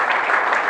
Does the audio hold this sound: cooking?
no